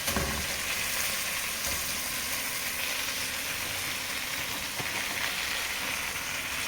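Rice frying in ghee and oil while being stirred, a dense steady sizzle close by with occasional soft scraping, continuing without voices.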